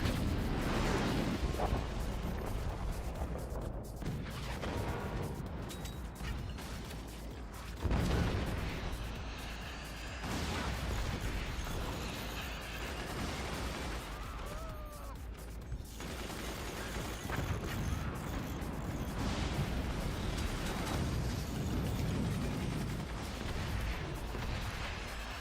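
Rockets launching and detonating in the physics-based fort-building strategy game Forts, a long stretch of steady mechanical clatter and rumbling blasts with occasional louder hits, dense and continuous throughout.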